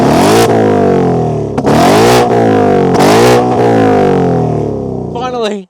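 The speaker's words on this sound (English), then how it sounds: "now listen to how it sounds in track mode" A 2025 Ford Mustang GT in track exhaust mode revs hard three times, its loud, raspy V8 surging and crackling between blips, then a final burble as it settles, very close and dominant.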